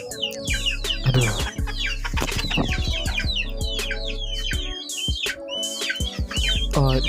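KUB free-range chickens on a poultry farm cluck and chatter close by, a busy overlapping flock with repeated sharp clucks and squawks over a low steady hum.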